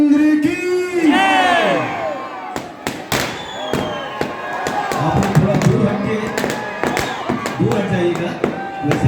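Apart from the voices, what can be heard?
fireworks inside burning Ravan effigy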